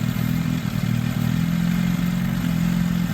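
A car engine idles with a suspected vacuum leak, making a loud, steady, low drone that holds even through the short stretch with no clear change in pitch.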